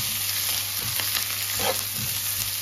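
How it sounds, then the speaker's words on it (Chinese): Greens sizzle loudly in a hot wok while being stir-fried before shredded white radish is added, steady close frying with bursts of stirring and tossing scrapes. "然后我们往里加入一些青菜，同样给它翻炒一下"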